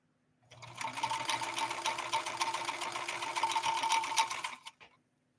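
A 1970s Kenmore 158.13520 sewing machine runs a zigzag stitch in one continuous burst of about four seconds, a close, fast mechanical whirring and clatter that starts and stops cleanly in an otherwise quiet room.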